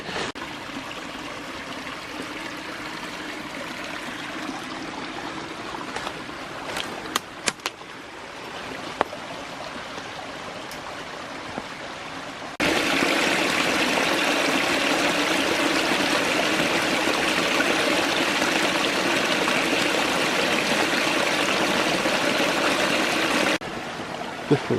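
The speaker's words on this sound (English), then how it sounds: "This little side stream is so unexpectedly full of water." A small, unexpectedly full side stream flowing through thick woods in a national forest, a steady rushing trickle that holds constant, then swells noticeably louder partway through before dropping back near the end, with no voices.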